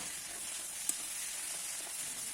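Ginger paste and cumin paste sizzle in a pan of bottle gourd whose cooking water has nearly dried off, a steady soft hiss with no talking.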